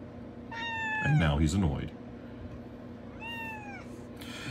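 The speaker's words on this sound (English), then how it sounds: "That noise you hear is this goofy cat" A pet cat sinking into a caved-in cardboard box lets out two drawn-out meows, the first followed by a low scuffling rustle, heard close and loud; someone speaks briefly between the calls.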